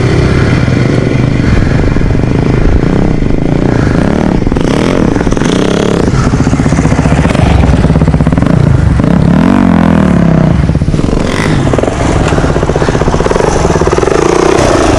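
A Suzuki DRZ 400 dirt bike runs through a huge gravel pit with a loud, continuous engine note that rises and falls with throttle, mixed with clattering and scraping from the loose ground, close and unbroken for the whole stretch.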